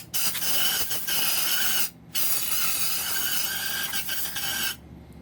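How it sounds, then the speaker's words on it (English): Compressed air blasts shavings out of a hole in an F23 or G23 engine block during a balance shaft delete install: loud, steady hissing bursts, broken by a brief pause and cut off at the end, with no talk. "if you got like compressed air or something, if you don't have an air compressor, go ahead and just stick it in there."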